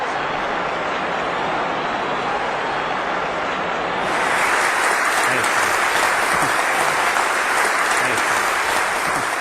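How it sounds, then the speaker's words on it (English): An audience applauds a speaker's introduction at a live talk: dense, steady clapping throughout, swelling noticeably louder about halfway and holding there to the end, with no voices over it. "that great round of applause"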